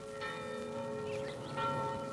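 Village church bells ring in a steady, resonant peal with overlapping tones that sustain throughout, moderately loud and alone, with no voices.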